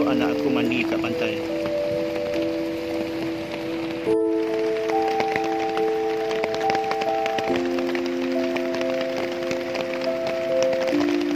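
Rain falls steadily on a beach camp, a constant wash of drops with music-like tones running over it throughout.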